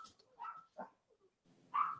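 Several short barks and yips from puppies, fairly close but not loud, in a quiet room with brief gaps between the calls.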